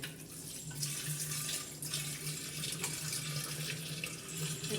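Running water splashes steadily as an old clay water pot is rinsed, with brief scrubbing and clattering bursts over the flow, close and fairly quiet.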